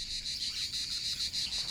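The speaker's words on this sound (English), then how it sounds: "the cicadas begin to sing at dawn when the sun strikes the trees" Cicadas sing in trees on a calm, cloudless day, a dense, shrill, pulsing buzz that swells and dips in quick steady waves, loud and continuous with no voices.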